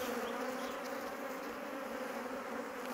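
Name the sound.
bees buzzing around beehives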